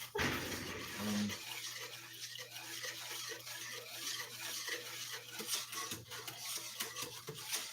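A spoon stirs a thick mixture in a pot or bowl while coffee is being made, steady scraping strokes close up, with a low hum running beneath.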